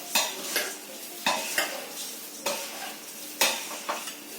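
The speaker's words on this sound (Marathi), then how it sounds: "तर थोडं फिरवलं म्हणजे कडक येतात मुरमुरे" Puffed rice chivda is stirred in a hot pan, giving repeated rhythmic scraping and rustling strokes about once a second over a faint sizzle, close and clear.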